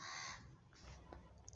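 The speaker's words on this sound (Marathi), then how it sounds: "एक झाड आहे आणि त्याच्यावर ना कावळा एवढा ओरडतो ना," A crow caws from a tree outside, a faint, distant call heard once or twice over a quiet room hum.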